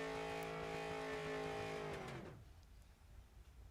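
Race car engine at high revs as the driver runs the tires down against the wall at a Mason Dixon Racing Series event, a loud harmonic drone that holds steady and then suddenly drops away, leaving faint background noise.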